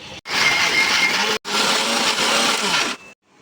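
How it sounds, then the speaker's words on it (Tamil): Mixer grinder blending beef gravy in a jar, a loud close whirring motor run in two bursts separated by a brief stop, then switched off. "இப்போ பீஃப் கிரேவியை ஒரு ஜாரில் சேர்த்துக்கிறலாம் இப்போ இதை அரைச்சி எடுத்துக்கிட்டு வரலாம்"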